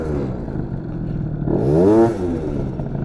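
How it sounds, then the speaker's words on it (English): A tuned scooter engine revs with the throttle ripped and the brake held, a steady loud drone that rises to a sweeping high-pitched whine and then starts to fall back. "You can just rip the throttle and pull the brake."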